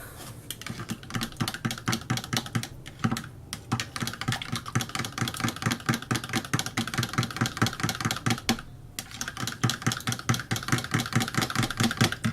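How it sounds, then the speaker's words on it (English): A whisk clicks rapidly and evenly against a bowl, beating eggs into milk in a quick, continuous rhythm with brief pauses, close and fairly quiet. "Just going to plop them in with my milk and give them a whisk."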